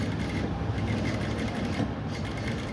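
Sewing machine stitching the collar of a men's suit, a steady close mechanical whir that runs continuously without pause.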